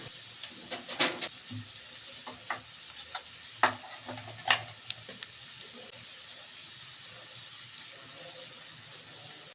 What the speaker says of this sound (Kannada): ಈಗ 2 to 3 ಮಿನಿಟ್ಸು ಚೆನ್ನಾಗಿ ಫ್ರೈ ಮಾಡ್ಕೊಳ್ಳೋಣ